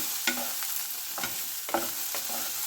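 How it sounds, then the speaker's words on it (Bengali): Cauliflower and beans fry in a pan, a gentle sizzle punctuated by several sharp scraping stirs of a spatula at a steady rhythm, close up with no talking. "ফুলকপি, বিনস সব কিছু খুব সুন্দর ভাজা হয়ে গেছে"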